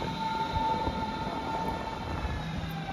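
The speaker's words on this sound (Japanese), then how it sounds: "このリングバーンってあの山手線みたいな感じでしょうねきっとね環状で走ってる電車なの" A Berlin Ringbahn S-Bahn train running along its circular line, giving a steady rolling rumble with a faint high whine, heard from on or near the train.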